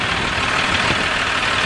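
A tractor engine idles steadily and close by, a constant broadband rumble with no breaks throughout.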